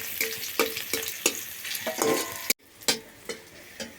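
Garlic fries in a pan with dried red chilli and green chillies, crackling in a bright, close sizzle broken by sharp spatula clicks and scrapes and a brief cut partway through.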